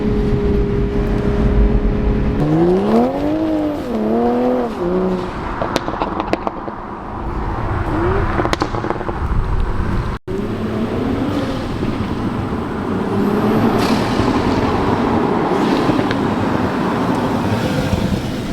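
A Toyota Supra with its first modification, engine revving hard through rising and falling sweeps, then settling into a rough rumbling drone with road noise, loud and close throughout.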